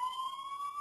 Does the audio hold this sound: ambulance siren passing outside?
yes